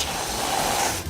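A can of Reddi-wip whipped cream sprays in one steady, close, airy hiss for about a second, then cuts off abruptly, with no voices.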